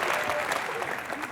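A burst of enthusiastic studio audience applause on a comedy talk show, dense clapping at steady volume for a brief moment.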